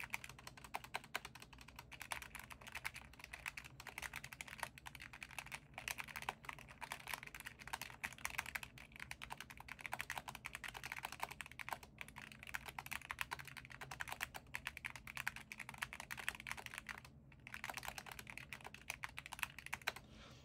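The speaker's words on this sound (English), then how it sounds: "if I do a typing test, you can probably hear the difference" A typing test on a DrunkDeer A75 mechanical keyboard, producing rapid, steady key clacks in a continuous stream, close and fairly quiet, with only a brief pause near the end.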